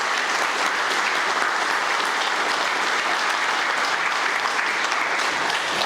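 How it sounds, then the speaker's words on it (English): Audience at an all-candidates meeting gives a sustained, even round of applause, dense clapping from a full room holding at steady loudness throughout. "Would you give our candidates, both of them, a round of applause for their thoughtful response?"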